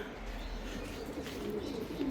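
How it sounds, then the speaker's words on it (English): A racing pigeon coos softly near the loft, a low, faint burbling call with a slightly louder coo toward the end. "That is another race bird."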